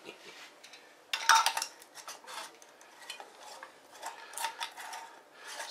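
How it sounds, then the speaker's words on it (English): A ginger beer bug is stirred in a jar with scraping, swishing strokes and a few clinks against the glass, fairly close and otherwise quiet, with no talking. "Let's give this a little stir."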